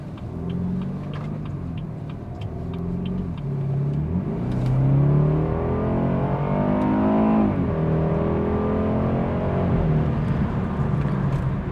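A tuned BMW F31 330xi Touring engine revs up and accelerates while driving, the pitch climbing through gears with a steady rumble and whir, no talking.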